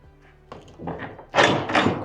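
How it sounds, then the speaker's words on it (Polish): A metal door at a grain silo is unlatched and pushed open, giving a sharp clank followed by scraping and two loud, hollow rumbling thuds close by. "Otworzymy jeszcze te drzwi"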